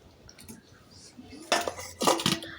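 Fried rohu fish pieces dropped one by one into curry sauce in a pan, giving two loud splashy clattering bursts against a quiet kitchen background.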